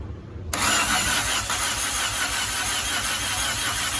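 A Peugeot 406 engine cranks and catches after a brief quiet moment, then settles into a loud, steady idle close by with a faint whine above it.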